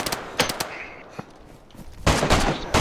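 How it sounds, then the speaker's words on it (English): Gunfire in a video game set around Kamyshovo: a few separate loud shots early on, then a dense, rapid burst of shooting near the end, with no talk heard. "Nice shot, Drew."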